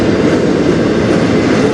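A CN freight train rolls past close by on the Strathroy Subdivision, a loud, steady rumble of wheels and cars with a constant low roar throughout.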